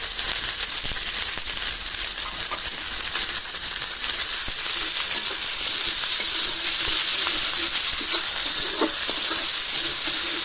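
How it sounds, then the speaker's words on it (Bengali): Garlic, onion and green chillies frying in a pan, a steady hissing sizzle that stays fairly even and grows slightly louder toward the end, with faint occasional crackles. "ভাজা হয়ে গেল রসুন পেঁয়াজ কাঁচামরিচ"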